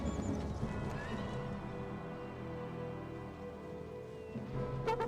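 Horse guards charging in the battle game Empire: Total War, with horse whinnies and hoofbeats over a busy mix of battle noise and sustained tones, ending in a sharp burst.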